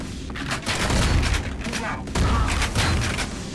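A shotgun fires in the retro shooter Ion Fury, with heavy booming blasts in quick succession and a loud, close report, layered over game noise and a talking player.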